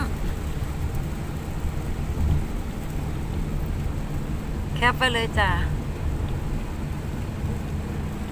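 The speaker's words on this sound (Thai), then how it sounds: "ฝนตกทั้งวันแล้วค่ะ" Rain falls steadily in an all-day downpour with a low rumble beneath it, and someone speaks briefly partway through.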